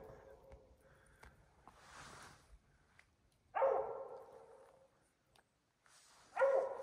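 A cur dog barks at a squirrel up a tree, sharp single barks arriving a few seconds apart amid quiet woods, with someone talking softly between them.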